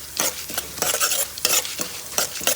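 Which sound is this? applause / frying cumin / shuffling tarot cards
frying cumin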